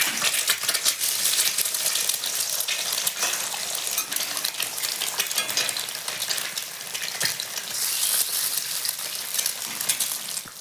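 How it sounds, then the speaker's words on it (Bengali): Beaten egg frying in white cooking oil in a hot wok, a loud continuous close sizzle with scattered clicks of a utensil moving through it, no voices. "ফার্স্টে আমি ডিমটা ভাজিয়ে নেব।"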